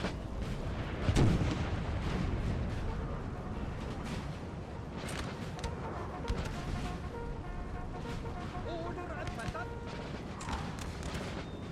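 Musket volleys in the Napoleon Total War 3 video game: a continuous crackle of distant rifle fire and booms under battle noise, with a voice talking over it.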